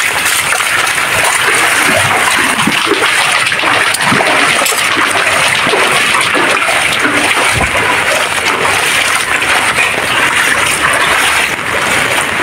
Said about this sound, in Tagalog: Okay, malakas pa rin ang baha.